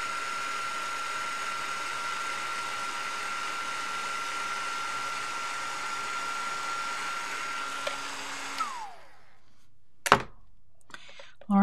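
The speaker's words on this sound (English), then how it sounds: "I will get my heat tool warmed up and we will melt this powder" Craft heat tool warming up to melt embossing powder, a steady close whirring blower hum that runs for about eight seconds, winds down and cuts off, followed by a sharp thunk and a few small clicks.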